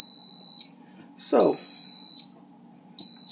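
An Aroma rice cooker gives long, high electronic beeps when finished cooking, repeating with short pauses, while a person says a word briefly between them.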